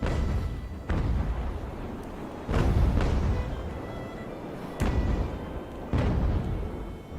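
Heavy ship cannons firing solid shot in an Age of Sail naval battle from Ultimate Admiral: Age of Sail, several deep booming discharges spaced a second or two apart, each rolling off under a steady rumble.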